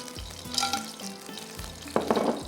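Black peppercorns frying in a little oil in a pan, a soft continuous sizzle with light stirring clatter and a brighter burst of crackle near the end, close and moderately loud.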